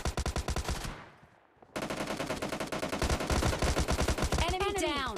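Automatic gunfire in a PUBG Mobile Lite duo-versus-duo match: loud, rapid bursts of shots, a brief drop to near quiet, then long sustained volleys of close fire.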